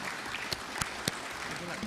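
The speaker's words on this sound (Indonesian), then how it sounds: "Tepuk tangan untuk kita semua" Scattered applause at an Indonesian talk-show style discussion event, a low steady wash with a few sharper distinct claps, fairly faint and brief.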